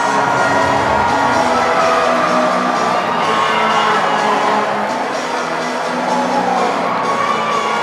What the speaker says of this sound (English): The loud roar you hear in the crowd